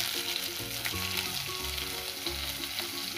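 Whole spices such as bay leaf, red chilli, black pepper and green cardamom frying with onion in a pan, a steady close sizzle running throughout with a low humming tone underneath, no talking.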